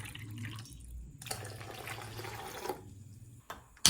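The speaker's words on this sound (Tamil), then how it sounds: "2 டம்ளர் தண்ணி ஊற்றுறேன்" Water splashes and trickles steadily for a couple of seconds, a close pouring into a pan, with quieter clinks before and after.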